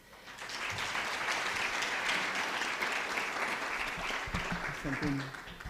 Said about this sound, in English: if you can give a big applause to the panelists